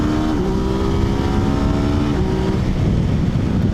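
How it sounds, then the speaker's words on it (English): A 2020 Yamaha Tracer 900 GT motorcycle accelerating hard with quick shifts, a loud sustained engine drone rising in pitch, briefly dropping at a clipped upshift and climbing again, with heavy wind rumble. "Do some quick shifting."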